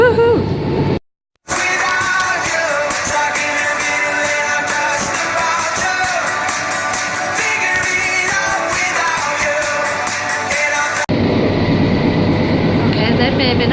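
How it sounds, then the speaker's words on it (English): Inside a moving train carriage: a steady loud rumble and rattle of rolling wheels fills the cabin, briefly cut off near the start, with a change in tone toward the end. "got this train all to myself"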